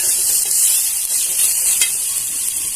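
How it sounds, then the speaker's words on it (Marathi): Salt, masala, chaat masala and asafoetida sautéing in a pan for besan bhindi, giving a close, steady sizzle with soft stirring scrapes throughout, no voices. "मीठ मसाला चाट मसाला आणि आपण थोडेसे हिंग घेतलेले ते घालून घ्यायचे छान असं परतून घ्यायचं आहे"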